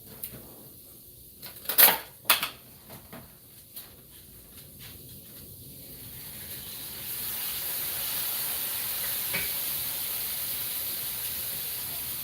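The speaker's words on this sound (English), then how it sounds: "I'm just gonna let that simmer a little bit." Spicy keto chicken bowl simmering in a pan, with a few sharp clicks and knocks early on, then a steady, rising sizzling hiss that fills the rest of the clip.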